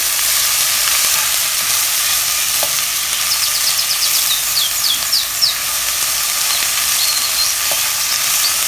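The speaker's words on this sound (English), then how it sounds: "Give that a stir." Onion, garlic and celery sizzle steadily in a pot for white chicken chili, a loud continuous hiss with faint stirring scrapes throughout.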